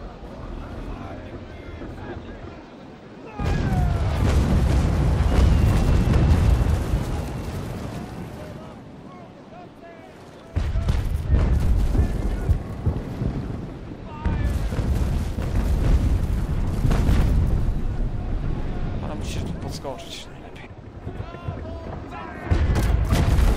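Deep booming cannon fire from an enemy warship in the Naval Action naval combat game, heavy low rumbles arriving in long sustained bursts separated by quieter gaps, with someone talking in between.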